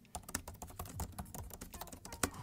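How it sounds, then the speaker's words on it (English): Rapid typing on the Magic Keyboard of an M1 MacBook Pro 13, close and crisp, with quick irregular key clicks and a few harder taps, alone without talk. "I want to type something here, so let's... Typing test."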